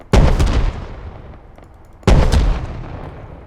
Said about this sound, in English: Then you've got the primary cannon